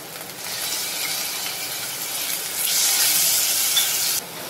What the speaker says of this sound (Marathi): आता आपण यात घालणार आहोत टोमॅटो।